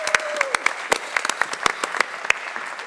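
Scattered, sparse clapping from a small audience at a Dutch local-politics talk show, greeting the fourth alderman candidate; uneven sharp claps in an irregular rhythm, fairly close, with no talk over them.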